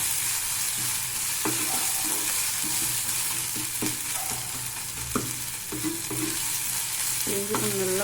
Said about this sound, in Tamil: வெறும் சோம்பு, கொஞ்சமாக கருவேப்பிலை, வெங்காயம், இஞ்சி பூண்டு பேஸ்ட்டு, பெப்பர், கொஞ்சமாக மஞ்சள், இதை போட்டு நம்ம ரோஸ்ட் பண்ண போகிறோம்.